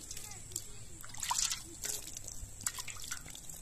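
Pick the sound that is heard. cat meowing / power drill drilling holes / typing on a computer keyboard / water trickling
water trickling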